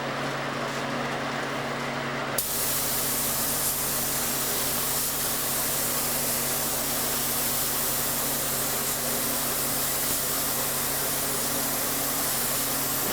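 A spray gun hisses steadily as it applies finish coating to a wood top, a constant near airy spray that starts abruptly after a quieter moment and runs without pause.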